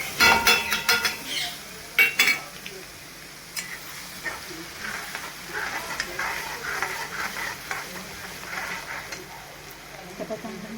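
Masala for kothimbir vadi hits hot oil in a pan and sizzles steadily while a spoon scrapes and stirs, with sharp clanks early on and the frying hiss continuing throughout.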